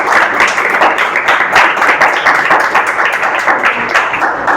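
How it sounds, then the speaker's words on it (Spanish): A loud, close audience at a book presentation on indigenous Wayuu housing applauds warmly, many hands clapping in a dense, sustained burst lasting several seconds. "vamos a darle un aplauso a Alonso por su trabajo"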